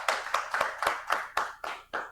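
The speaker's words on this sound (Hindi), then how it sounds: "एक बार सारे गर्ल्स के लिए तालियां बजा दो जोरदार।" A classroom group claps for the girls in a quick, even series of about eight sharp, close hand claps with no talk over them.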